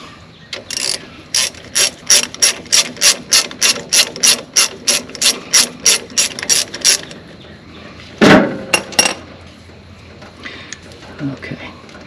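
A ratchet wrench clicks in a quick run of about fifteen sharp strokes while working on a truck's broken brake line, close and loud, followed by a clunk and a brief handling noise.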